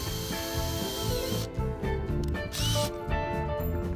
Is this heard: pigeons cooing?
no